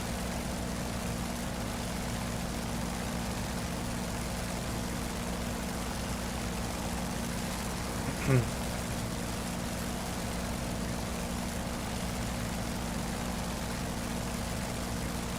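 An F4U-1 Corsair's propeller engine droning steadily in a DCS World flight simulation, a constant low hum with one brief tonal blip midway, no talk.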